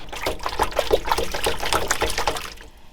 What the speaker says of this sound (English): We got to get this water out of the doors because it made a pool.